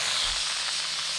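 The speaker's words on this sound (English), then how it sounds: "I'm trying to get it so you can see it steam" Steam hisses hard and continuously from a pressure canner processing green beans, a bright, even jet that sounds close to the microphone with no voices over it.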